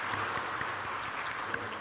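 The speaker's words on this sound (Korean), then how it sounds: "우리의 눈을 열어주시는 하나님 앞에 우리 영광의 박수 올려드릴까요?" A church congregation clapping together at a Sunday service, a dense, even patter of many hands heard at moderate distance for a short stretch.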